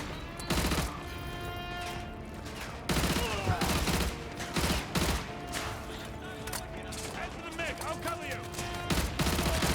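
Bursts of rapid gunfire fill a Call of Duty: Modern Warfare 2 remastered mission on a snowy cliffside, with several loud fusillades one after another. Game noise carries beneath the shots.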